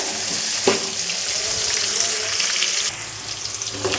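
Onions frying in hot oil for a radish sambar give off a steady, loud, close sizzle that holds for a few seconds, with a brief stirring clatter near the start and a slight drop in intensity toward the end.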